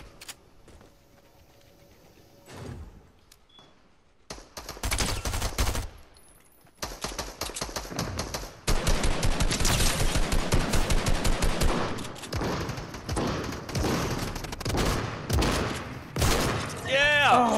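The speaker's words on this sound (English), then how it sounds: "I got an assault rifle." Rapid assault rifle bursts in a PUBG-style battle royale shooter, loud, repeated volleys of automatic fire with short pauses, a player talking over parts of it.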